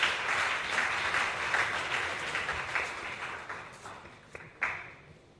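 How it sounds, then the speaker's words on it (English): An audience at a tech app launch event in Uganda applauds its panelists with steady, moderately loud clapping that thins and fades toward the end, ending in a few isolated claps. "applause to our incredible panelists here."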